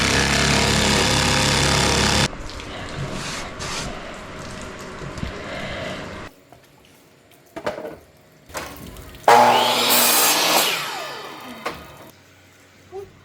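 A power tool cuts notches into wood at home, with a loud continuous buzz at the start, then quieter scraping and tapping, and a second harsh burst of cutting near the end that fades away.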